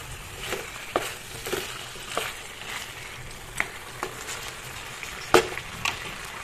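Chicken curry frying in a pan, a steady close sizzle with soft crackle and periodic stirring scrapes and taps through the fry, no voices.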